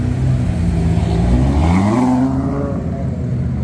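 A GTS supercar's engine revs loud and close on a Monaco street, its deep roar climbing in pitch as it accelerates and then easing away.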